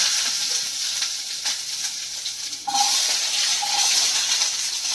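Onions dropped into hot oil that was already used for frying, giving a steady bright hiss that jumps louder partway through as they hit the pan, close and continuous with no talking.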